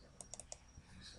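Two quick pairs of sharp computer mouse clicks, a double click repeated, sound close up and fairly faint against a quiet room hiss while working in animation software.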